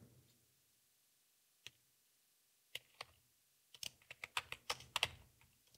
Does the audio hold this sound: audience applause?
no